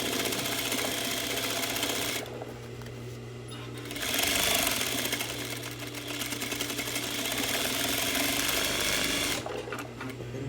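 A sewing machine zigzag-stitching across a belt loop repair runs in two bursts of steady rapid mechanical whirring, with a short pause between them. The sound is close, with faint talk at times.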